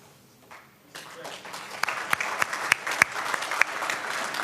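An audience at the Rebranding Africa Forum bursts into applause after a quiet first second. The clapping is steady and fairly close, with a few sharp individual claps standing out.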